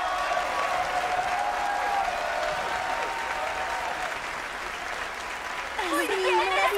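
Sustained applause from a cartoon audience at a modeling contest, clapping steadily throughout with a lively, dense texture and some cheering toward the end.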